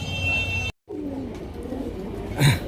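Caged pigeons give low coos close by, with a short break in the sound partway through and a louder coo or flutter near the end.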